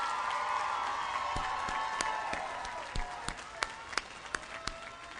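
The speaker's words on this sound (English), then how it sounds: "we owe a round of applause to all the people out here that help support you" An outdoor commencement audience applauds in a broad, steady wash of clapping that thins toward the end, leaving a few distinct individual claps.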